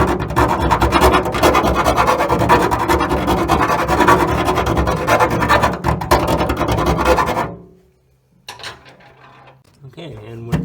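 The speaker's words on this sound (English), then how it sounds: "I just like to clean up the edges with a file." A hand file scraping the edges of a hole cut with a step bit for a truck camper wiring plug, a rapid run of rough rasping strokes close up that stops abruptly, followed by faint handling noises.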